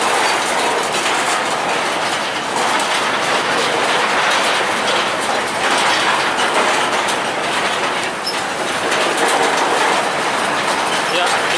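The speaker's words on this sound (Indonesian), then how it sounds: "Dan di belakang ada lokomotif D14." Train hauled by a D14 locomotive rolls along railway track, a steady loud rumble of wheels and cars with clattering rail noise continuing without a break.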